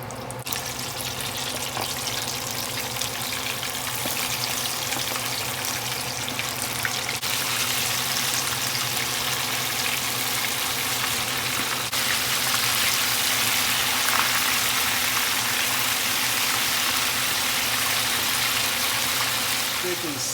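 Buttermilk-battered chicken frying in a deep fryer, a steady dense sizzle and bubbling hiss that holds level throughout at moderate loudness, with a faint low hum beneath.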